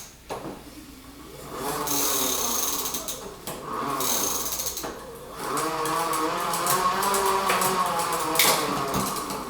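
A Freebeat MorphRover self-charging ebike pedaled on a stand with its motor providing resistance, giving a cyclic whirring and grinding hum that rises and falls in surges, close and moderately loud, with no talk.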